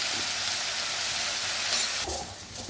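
Onion and capsicum stir-frying uncovered in an open pan with salt and turmeric: a loud, continuous hissing sizzle with a brief shift near the end as the food is moved.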